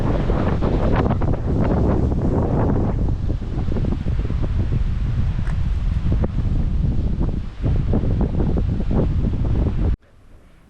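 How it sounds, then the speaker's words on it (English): Strong wind on an escarpment walking track at Kroombit buffets the microphone in a loud, continuous roar with gusty rumbling, then drops away abruptly near the end. "it's so windy here"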